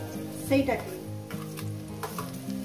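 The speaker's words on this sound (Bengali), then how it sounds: "এরপর দিয়ে দেবো যে আদা, রসুন, কাঁচা লঙ্কাটা যেটা বেটেছি" Ginger, garlic and green chili paste hits hot oil in a pan, a brief loud sizzle followed by a steady crackling fry with the scrape of stirring, close and continuous.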